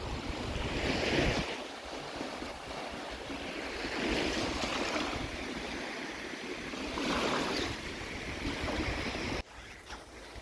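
Steady Turkish seaside surf washing ashore in repeating swells, with wind rushing across the microphone throughout and no voices.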